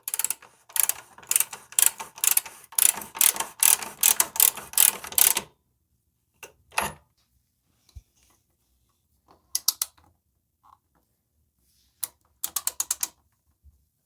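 Rapid ratchet clicking while bolts are tightened on an e-bike motor kit, a dense run of sharp clicks for about five seconds, then a few short bursts of clicks separated by silence.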